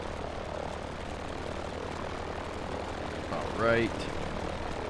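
A Ford Tri-Motor 5-AT in a flight simulator sits at a low engine drone, with a brief rising throttle-up swell near the end; someone speaks briefly over it.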